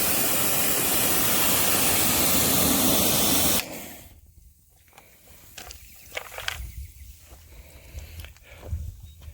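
A strong spray of water rinses soap off a car's nano-ceramic-coated paint, a loud steady hiss that cuts off abruptly after a few seconds, leaving quieter drips and faint movement.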